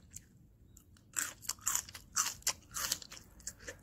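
Crisp crunching bites of red radish water kimchi, a slow series of sharp crunches with chewing between them, close and distinct over a quiet background, no talking.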